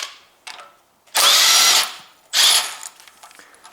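A high-torque power tool rated at 500 Nm loosens the crankshaft pulley bolt on a Toyota 1.8 2ZZ-GE VVTL-i engine, giving two loud, close hammering bursts of about a second each with short mechanical clicks between them and no talking.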